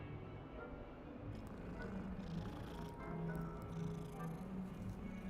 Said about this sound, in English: Ooh, I'm gonna pet this cat.